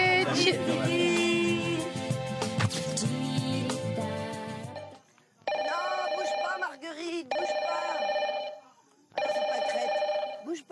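Telephone ringing on a celebrity farm reality show, a loud electronic ringtone melody repeating in bursts after a stretch of music, with short pauses between rings.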